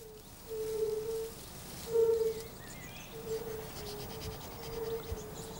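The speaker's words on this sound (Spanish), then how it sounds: "resuenan las desesperadas llamadas de apareamiento de los sapos de barriga dorada" Golden-bellied toads giving mating calls in a spring wetland near beaver lodges, a series of soft, clear, evenly spaced tonal notes, several in a row, moderately near over quiet background.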